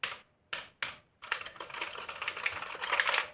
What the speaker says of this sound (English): Very clacky keyboard.